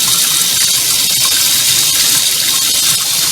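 Hot water from a tankless heater gushes steadily from a sink faucet, a loud, even, close rush of water that never pauses.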